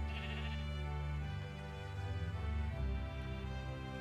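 Sheep bleating in the video game Minecraft, a steady wavering tone held across the whole clip at moderate level, with no talking.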